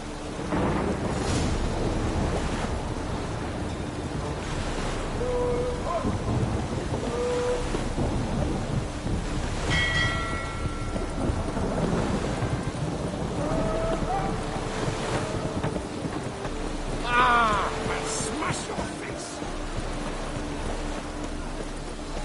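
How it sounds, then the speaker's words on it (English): Dense, steady downpour with deep rolling thunder rumbling underneath in the video game The Witcher 3, loud and continuous throughout, with no voices. "Witches have conjured rain."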